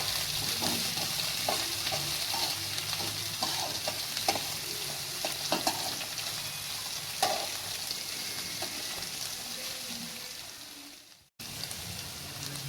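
Onions fry in a pan for poha, a steady close sizzle broken by scraping stir strokes and small pops, then a brief cut to silence before the frying resumes near the end.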